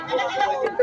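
Goat bleating at a crowded goat market, where castrated goats are lined up for sale; a short bleat rises close by over steady crowd chatter and bargaining voices.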